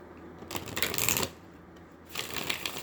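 A deck of tarot advice cards being shuffled and handled up close, two riffling bursts separated by a short pause, with no voice.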